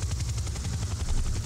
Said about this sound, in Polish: Helikopter słyszę.